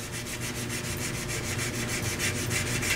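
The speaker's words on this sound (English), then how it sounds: "which means that I am sanding the CA" Sanding a CA finish on wood by hand: steady close back-and-forth rubbing strokes in an even quick rhythm, about five per second, with no talking.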